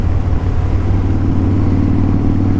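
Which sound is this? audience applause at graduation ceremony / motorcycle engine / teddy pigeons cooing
motorcycle engine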